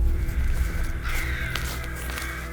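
Crows cawing overhead in an open outdoor setting, a few harsh calls standing out over a steady low background rumble, moderately distant.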